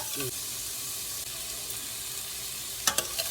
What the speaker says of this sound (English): The bacon isn't doing anything but cooking.